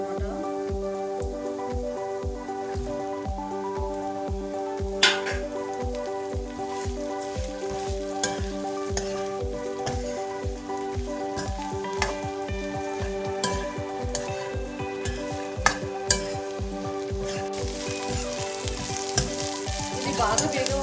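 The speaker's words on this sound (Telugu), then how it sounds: "ఇది బాగా వేగే వరకు ఉంచుకోవాలన్నమాట. బెండకాయలు బాగా ఫ్రై అవ్వాలి" Sliced okra frying in a pan gives a steady, close crackling sizzle throughout, with occasional clicks and stirring knocks and no talk.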